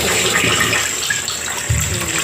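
Water poured and splashing while greens are washed and cleaned in a home kitchen, a steady close gush with a heavier splash near the end and no voices.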